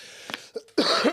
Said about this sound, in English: need a cough